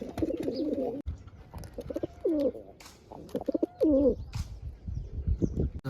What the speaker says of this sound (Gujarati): કબૂતર ઉડા આપણે